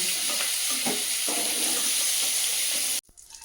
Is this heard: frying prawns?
yes